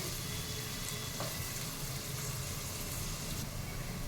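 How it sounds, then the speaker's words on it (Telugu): Onions frying for a coconut-milk chicken curry fill the pan with a constant, close, hissing sizzle that stays even from start to finish. "ఇదంతా కొంచెం ఎర్రగా వచ్చేంత వరకు మనకు ఉల్లిపాయలు మగ్గాలి"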